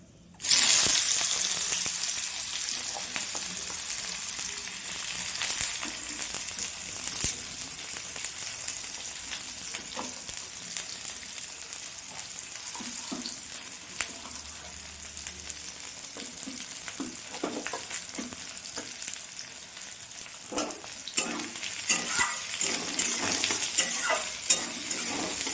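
Chopped onion frying in a pan for a Bengali jackfruit and small prawn dish, a continuous bright sizzle broken by stirring scrapes and clatters that grow more frequent toward the end, with no talking.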